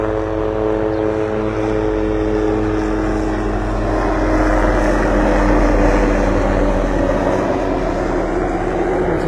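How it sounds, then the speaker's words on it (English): A steady, loud droning helicopter engine with a throbbing rotor hum, flying overhead along a beach, continuous throughout with no voices. "We hear a helicopter heading up the beach."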